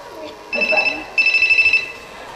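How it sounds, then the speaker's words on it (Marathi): A telephone bell rings in two bursts, a short pause between them, fairly loud and close during a Marathi stage play, with a voice speaking faintly underneath. "बघा बघा कुणाचा फोन येतो."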